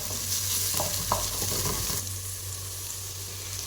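Grated garlic and onions sauté in a hot pan for a mutton and okra stew, a steady close sizzle with brief spoon stirs early on, the hiss continuing evenly alone.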